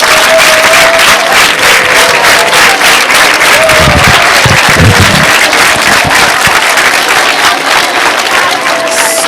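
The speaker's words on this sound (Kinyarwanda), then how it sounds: "reka mbasabe muri rusange barimu 24 nababwiye tubakomera amashyi" A school crowd at Glory Academy gives a sustained burst of applause for its 24 teachers, loud, dense clapping that holds steady throughout, with faint voices mixed in.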